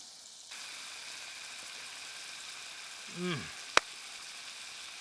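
A chunk of butter sizzles in a pan on an outdoor camp stove, a steady soft hiss that starts suddenly, with a brief voice and a sharp click later.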